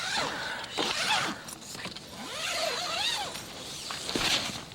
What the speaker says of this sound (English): All you hear is the zipper.